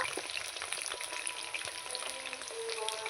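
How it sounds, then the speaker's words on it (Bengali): Potatoes frying in hot oil with salt for a chicken curry, a steady close sizzle with light stirring scrapes running continuously, no voices. "লবণ এবার আমি ভালো করে নেড়ে চেড়ে আলুটাকে ভেজে নেব লাল লাল করে"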